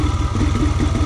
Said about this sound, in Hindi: तो अभी ये बाइक आ रही है यहाँ से फिलहाल R15 Version 3